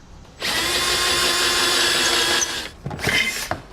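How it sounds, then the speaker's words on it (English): Power drill with a step bit enlarging a hole in the steel subframe of a 2017 Chevrolet, a loud steady whine for about two seconds, then short stop-start bursts close up. "I'm going to use a step bit on it."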